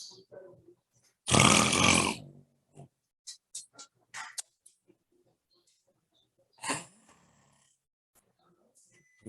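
Person snoring, one loud, rough, drawn-out snore followed by several short, faint breathy snorts and a second, weaker snore amid quiet pauses.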